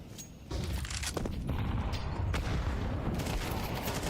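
Grenade blasts and gunfire in a Counter-Strike esports match, heard as a dense, continuous rumble of explosions and shots that thickens after the first half second and stays loud throughout.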